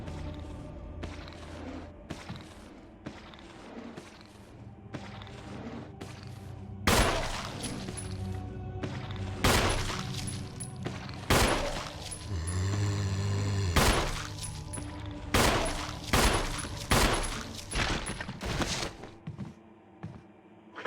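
Repeated gunfire from the Resident Evil 1 Remake video game, with loud sharp shots fired in irregular bursts and clusters over a dull ambient game background, no voices.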